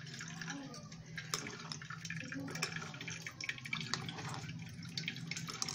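Pani puri water drips and trickles through a filter in a home kitchen, a faint, irregular patter of drops with a soft low background and occasional quiet sounds over it.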